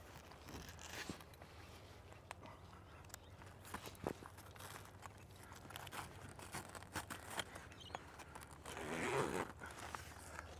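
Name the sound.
zipper on camper trailer annex roof being zipped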